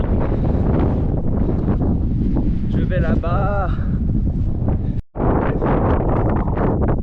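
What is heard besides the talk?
headwind blowing on mountain trail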